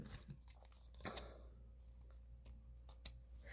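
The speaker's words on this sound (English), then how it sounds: "I'm going to snip my yarn" Dull scissors snip through yarn after a crochet chain on a granny square, with a few soft cuts and then a sharper single snip near the end, close and quiet.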